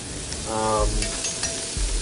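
Sea scallops searing in hot oil in a pan, a brief steady sizzle with a short scrape or clink as the pan is worked, close and fairly loud over two seconds.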